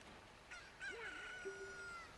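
A Cucco chicken in the Zelda Ocarina of Time video game lets out a short squawk, then a drawn-out rising and falling crow-like call, clear and alone over a faint game hum.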